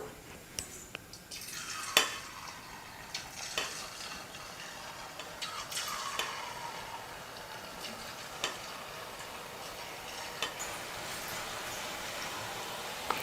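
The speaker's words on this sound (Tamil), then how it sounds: "இப்போ இந்த மாவை வந்து எண்ணெயில் போட்டு பொரிச்சு எடுத்துடலாம்." Rice flour dough frying in hot oil for a rice-flour snack, a steady soft sizzle with scattered ticks and light clinks from a utensil or pan, close and moderate in level with no talk.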